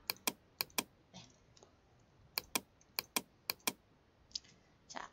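Computer keyboard keys are pressed for Photoshop shortcuts in quick pairs and short bursts of crisp, close clicks separated by brief pauses, with faint lighter taps between them.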